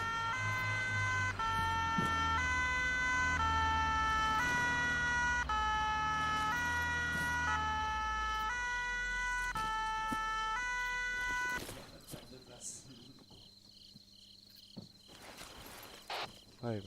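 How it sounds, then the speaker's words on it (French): Fire engine sirens in a GTA roleplay video game wail in a steady alternating two-tone pattern, loud and continuous for about eleven seconds before cutting off, leaving a faint ambient background. "on a entendu les sirènes"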